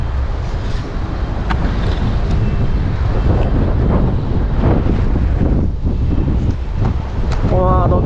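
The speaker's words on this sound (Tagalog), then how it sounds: "lakas ng hangin" Strong wind buffeting the microphone out on the water during a fishing trip, loud continuous roaring gusts with faint voices and motor noise mixed in.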